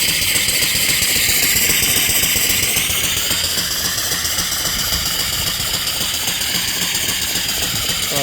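A vertical steam engine with a flyball governor runs steadily, a continuous mechanical chuffing and rattling hum with a hissy upper layer, close and unchanging throughout, no voices.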